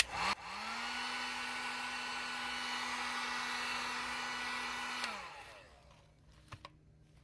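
A heat gun blows hot air while heating and shaping a foam mask part for a Death Stranding Higgs mask build: a steady close whirring blast that starts abruptly, holds for about five seconds, then winds down and stops, followed by small taps.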